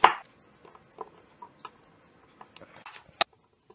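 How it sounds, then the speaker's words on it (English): Kale is finely chopped with a knife on a board, a sparse series of faint, quick taps scattered unevenly, the first one louder, with quiet gaps between and no voices. "I'm going to chop it up really fine."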